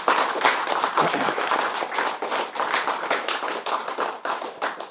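Gathered crowd at a pyramid meditation retreat clapping in unison, sharp rhythmic hand claps repeating steadily and fairly close for several seconds, without speech.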